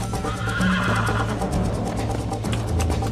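A horse in a video game neighs and whinnies loudly over ambient game sound, with faint hoof clip-clop in the mix.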